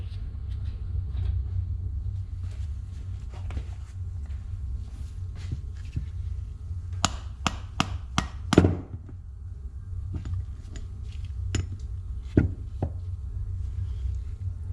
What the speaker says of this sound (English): And I think that just hammers out of there.